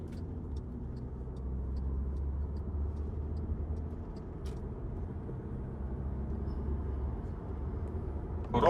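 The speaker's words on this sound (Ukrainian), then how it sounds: "Даємо газу, слухайте, як працює коробка." A 2013 Volkswagen Passat B7 4Motion R-Line with a 2.0 diesel and DSG automatic gearbox drives while accelerating, heard from inside the cabin as a steady low engine drone with faint regular ticking and no talk.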